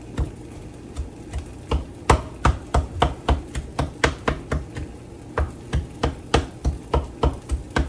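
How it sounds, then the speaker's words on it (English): Rapid, regular knife chops strike a cutting board while an acorn squash is broken up, about twenty sharp close-up thuds in steady rhythm with no talk. "Gonna break up this squash."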